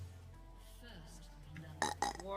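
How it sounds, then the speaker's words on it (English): A woman lets out a burp over a gaming stream's background sound, after quiet speech-like murmuring, a short loud guttural belch near the end. "I have to burp"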